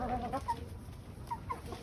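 Large hens, mothers of chicks, clucking softly in a few short calls close by, fairly faint and alone.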